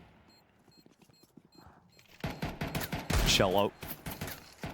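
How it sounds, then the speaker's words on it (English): Rapid gunfire and bullets zipping past in a Counter-Strike 2 pro match at PGL Bucharest 2025, with dense bursts of shots growing louder midway while a caster talks over the action. "The bullets whizzing past him, steps pittering and pattering towards him"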